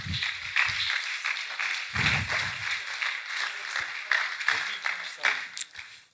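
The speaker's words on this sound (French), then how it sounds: "Acclamons pour elle." Audience applause for a club merit diploma recipient at an award ceremony, a burst of clapping that swells and fades in waves, moderately near, with scattered voices mixed in.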